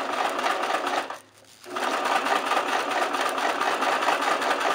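A sewing machine stitches through crepe paper in a rapid, steady whir, stopping briefly for a moment before running on again, close and moderately loud.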